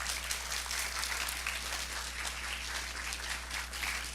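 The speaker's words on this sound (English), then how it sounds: "Round of applause, please." Audience applause at a Canyon Center agriculture and climate seminar: a steady, dense wash of clapping from a roomful of people, moderately loud and unbroken for a few seconds, with no talk over it.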